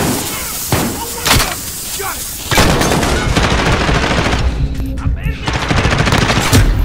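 Gunfire in the video game Call of Duty: Modern Warfare, with loud bursts of rapid automatic shots and single cracks that come in clusters, dense and close throughout, mixed with other game sounds.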